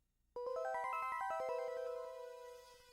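Logo jingle from the Rocket Knight video game: a quick ascending run of bright chiming synth notes that settles into a ringing held tone and slowly fades, fairly quiet and alone.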